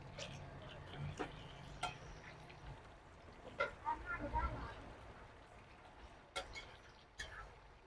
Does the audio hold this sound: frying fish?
yes